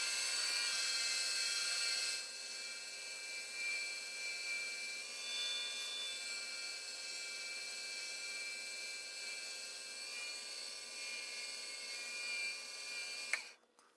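A cast label blank spinning on a wood lathe is sanded with 600-grit paper, a steady high whir with a soft sanding rasp running throughout, ending with an abrupt stop.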